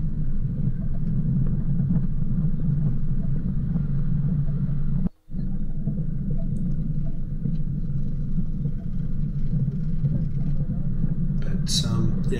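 A vehicle grinds steadily along a rocky bush track on Dandongadale Spur near Mt Buggery in low cloud, a continuous low engine rumble filling the cab, broken by one brief drop-out midway.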